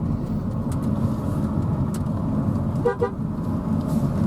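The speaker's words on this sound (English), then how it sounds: "Nice sounding horn in the Jag." A Jaguar car's horn sounds two short toots, the car coming down a narrow Alpine mountain road on the Col du Noyer route, standing out over a steady loud engine and road rumble from inside the car.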